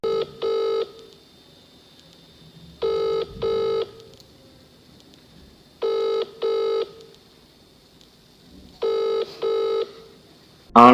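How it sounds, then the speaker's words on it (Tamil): A mobile phone rings out unanswered, repeating its ringtone in four evenly spaced double bursts with quiet gaps between them, clear and close. "தனது மொபைலை எடுத்து கார் சர்வீஸ் செய்யும் நபருக்கு கால் செய்கிறான்"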